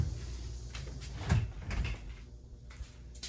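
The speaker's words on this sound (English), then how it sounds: "Let me shut this door so you can see." A workshop door swings shut beside a mini lathe, giving a couple of dull, close thumps and a soft knock against quiet room tone, with no talking.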